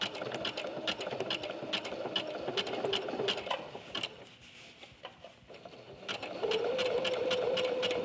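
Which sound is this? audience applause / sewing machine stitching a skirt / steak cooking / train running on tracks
sewing machine stitching a skirt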